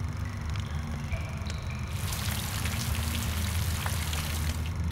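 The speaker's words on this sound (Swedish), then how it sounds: "Det var sommar och ute ösregnade det." Heavy summer downpour, a steady rushing hiss of rain with scattered drops that swells louder about halfway through, continuous and enveloping with no voices.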